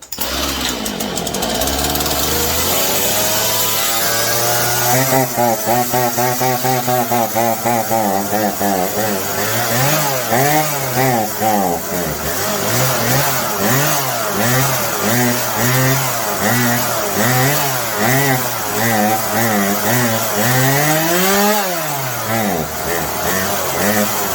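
Stihl MS171 chainsaw running after a carburetor swap, loud and close, the engine surging and wavering in speed with repeated revs that rise and fall unevenly.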